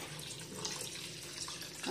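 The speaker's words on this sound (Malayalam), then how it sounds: "ഇതിലേക്ക് നമുക്ക് കുറച്ച് തണുത്ത വെള്ളം ഒഴിച്ചു കൊടുക്കണം" Cold tap water runs steadily over cooked noodles in a kitchen, a continuous close splashing and rushing stream with no talk.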